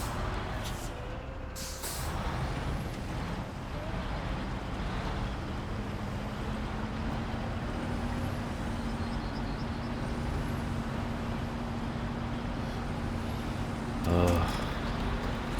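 Truck engine in the SnowRunner driving game, Tennessee map, a steady low drone and rumble held for the whole stretch, with a short sharp hiss of air near the end and a voice heard faintly at times.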